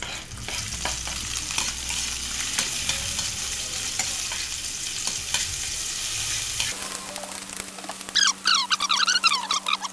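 Garlic sizzling and frying in a pan with steady crackle and occasional stirring scrapes, followed by a low hum and brief chirping sounds near the end.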